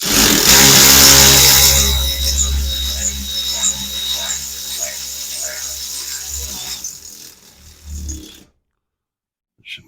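A power tool drives a tap socket to clear threads in a nut plate during a recovery point installation, a loud buzzing whir with a rough rattle that slows and fades before stopping, then silence.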